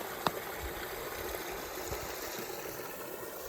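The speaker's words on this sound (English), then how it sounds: "The water's coming through." Small stream of water trickling through a rocky ravine gully beside a trail in Connecticut, a steady close wash of flowing water with a faint thump near the start.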